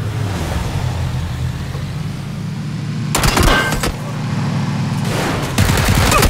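Submachine gun bursts in a video game fire in two sharp, loud clusters over a steady engine-like rumble, the first burst near the middle and a second sustained volley toward the end.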